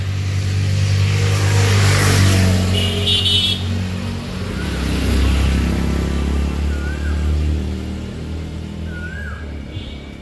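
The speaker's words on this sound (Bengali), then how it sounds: "আমাদের এখানে রাস্তায় এত গাড়ি চলে, গাড়ির শব্দে পাখির শব্দ শোনা যায় না।" Cars pass along a road in a Bangladeshi village, their engine hum loud and close, swelling, fading and building again. Faint bird chirps come through the traffic noise, and nobody speaks.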